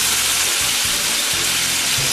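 Steady, loud sizzling of Roma tomatoes frying in a pan, a continuous crackling hiss with faint low clinks underneath.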